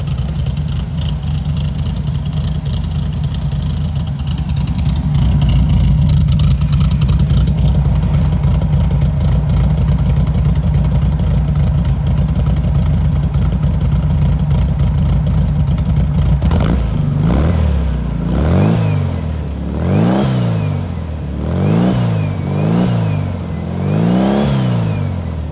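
A 1957 Porsche 356 Speedster replica engine idles with a steady, close low rumble, then from about seventeen seconds gives a series of rhythmic revs that rise and fall repeatedly, with no talk.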